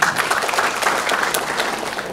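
An audience at a STEM seminar breaks into brief, dense applause, a close burst of many hands clapping that lasts a couple of seconds.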